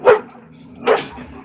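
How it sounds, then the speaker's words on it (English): A dog barks twice, close and loud, with short sharp yaps spaced roughly a second apart, and no voices heard. "Dog."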